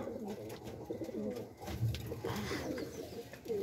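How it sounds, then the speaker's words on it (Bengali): Several pigeons coo in low, throaty bursts, a steady murmur of overlapping calls close by, with faint rustling around them and no talking. "আপনারা দেখতে পাচ্ছেন কিছু কবুতর আছে"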